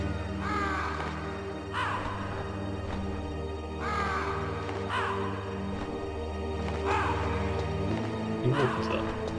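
Crows or ravens caw repeatedly in a Metal Gear Solid game scene, several harsh calls spaced a couple of seconds apart over steady game ambience and low background music, with a voice talking faintly underneath.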